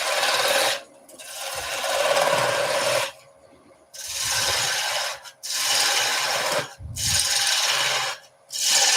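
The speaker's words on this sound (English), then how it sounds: "So we're on a little spindle gouge now." Small spindle gouge cuts wood on a spinning lathe in several long, rough rasping passes separated by brief pauses, close and steady, with no talking.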